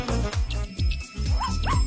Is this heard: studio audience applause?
no